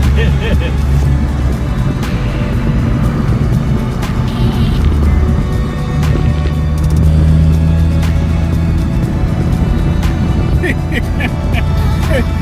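A 2015 Ford Focus ST hatchback driving over a bumpy road, with a loud continuous engine and road rumble heard from inside the cabin and occasional knocks and rattles.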